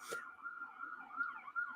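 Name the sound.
sirens going off in Brooklyn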